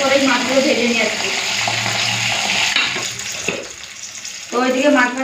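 Fish fries in hot oil, a close crackling sizzle that dips briefly midway, while a voice is heard at the start and end.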